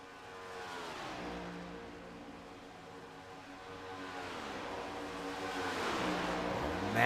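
Race cars in a Red Light Racing scrambler race at Indianapolis, engines rising and falling in pitch as they accelerate and sweep past one after another, moderately loud, under a race commentator's continuous voice.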